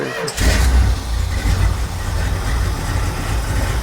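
A 1969 Plymouth Roadrunner, parked for 25 years, cranks and fires up with a loud catch, then settles straight into a deep, steady rumbling idle, close and strong.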